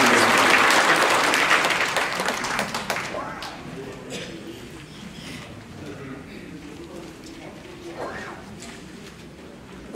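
Audience applause at a memorial ceremony for the anniversary of the Donghak Peasant Revolution: loud, dense clapping at the start that fades over the first few seconds into a quieter hall murmur with scattered taps.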